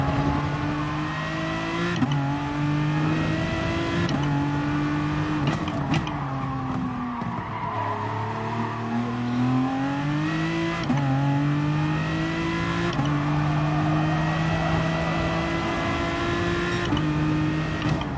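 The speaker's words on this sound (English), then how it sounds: "I might have to just rev out a bit just to burn some fuel" The engine of an Aston Martin race car in GT Sport, driven at Interlagos, revs hard and climbs through gears, with repeated shifts every couple of seconds and a brief dip while braking before it winds back up, loud and close throughout.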